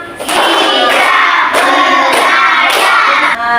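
A class performs a rhythmic spirit cheer, loud group chanting broken by four evenly spaced bursts of sharp clapping, close and energetic throughout.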